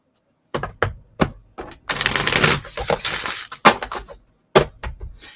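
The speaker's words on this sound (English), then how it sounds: "We're going to shuffle one more time." Oracle cards being shuffled by hand on a table, giving several short papery riffles and snaps, then a longer continuous shuffling burst and a few more crisp card slaps, close and clear with no talking.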